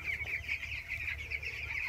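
Broiler chickens cluck continuously in a flock, a busy overlapping chorus of short calls at close to moderate distance.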